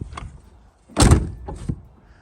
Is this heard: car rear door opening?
yes